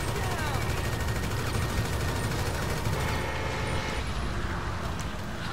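Rapid gunfire from a weapon in the video game GTA V rattles on continuously and loudly, a dense stream of shots mixed with game noise for a few seconds.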